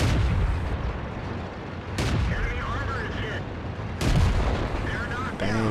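Tank cannon shots in World of Tanks on the Karelia map, two sharp, loud booms roughly two seconds apart, each followed by a rumbling decay, with someone talking over the battle.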